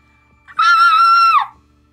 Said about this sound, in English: did someone scream?